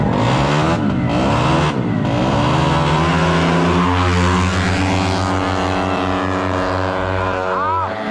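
Yamaha NMAX scooters revving hard in a drag race at a Cabanatuan City event, loud continuous engine whine climbing in pitch with harmonics shifting as they accelerate, crowd noise faintly beneath.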